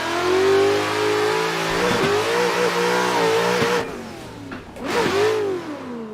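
A Corvette engine in the Assetto Corsa racing game is revved hard after a clutch kick during a drift, giving a loud, near, rising roar that dips and surges again with brief pauses in throttle.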